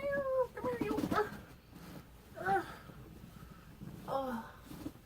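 A kitten meowing indoors, three separate short cries spaced a couple of seconds apart, fairly close, with faint background noise between them.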